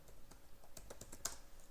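Quiet, rapid typing on a computer keyboard while coding a React programming tutorial: a soft, uneven run of close keystroke clicks with no one talking.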